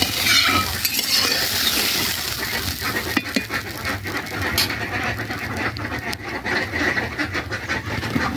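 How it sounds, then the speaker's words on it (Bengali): Fish curry gravy with spices and a little water boiling hard in a pan, a steady close bubbling and sizzling hiss with occasional stirring scrapes, continuous throughout with no talking. "দেখুন বন্ধুরা আমার ঝোলটা কেমন ফুটে উঠেছে"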